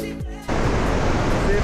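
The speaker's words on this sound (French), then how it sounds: "Là, on est arrivé à la cascade" A waterfall near Ourika outside Marrakech roars as a steady, loud broadband rush after a brief tonal sound at the start.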